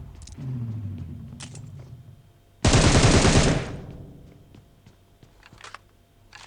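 A loud, rapid burst of automatic gunfire in PUBG Mobile lasting about a second, preceded by a rising engine-like hum and followed by faint distant shots.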